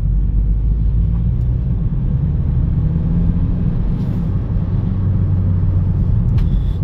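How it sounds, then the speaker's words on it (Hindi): A Mahindra XUV300 accelerates hard on an open road with the turbo engaged, producing a loud, steady low engine and road rumble with no talking. "तो हल्का सा एक बार टर्बो ऑन करके देखते हैं, खींच के देखते है"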